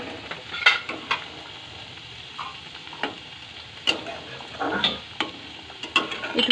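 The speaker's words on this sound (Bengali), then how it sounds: "মা কিন্তু আলু কোয়াশ বসিয়ে দিয়েছে ভাজা" Potato pieces fry and sizzle in a pan on a home kitchen stove, a steady crackle with occasional stirring scrapes and utensil clicks, close by and moderately loud.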